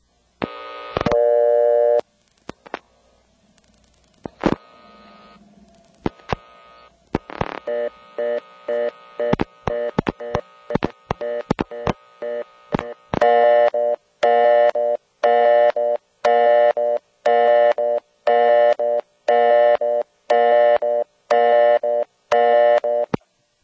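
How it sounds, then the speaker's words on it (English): Old step-by-step telephone exchange equipment in Windsor, NC, its callback circuit dialed to a blocked level, plays a busy signal: a loud, regular on-off tone in pulsing bursts, with clicks and relay clatter and dialing pulses before it settles into a steady rhythm. "dial a blocked level, and then superimpose the busy signal on top of it"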